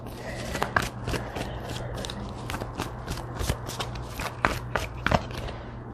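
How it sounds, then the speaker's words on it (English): Tarot cards are shuffled and drawn in a quiet room, a run of crisp riffling flicks and soft slaps repeating irregularly at close range with no voice over them. "Let me pull a couple more cards."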